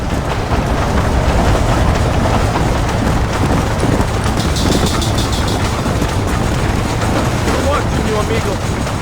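A train runs in Red Dead Redemption, giving a steady, loud rumble and rattle that fills the whole stretch while voices speak over it.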